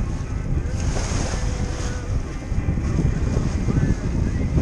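Wind and ocean waves rush steadily around a sailboat beating north along the Florida Keys in roughly four-foot seas, a loud, continuous broadband roar of surf and gusting wind buffeting the microphone, with no voices.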